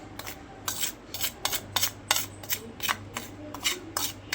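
A spoon stirs detergent powder in a bowl, making a quick, rhythmic run of about a dozen scraping clinks against the bowl's sides, close and fairly soft.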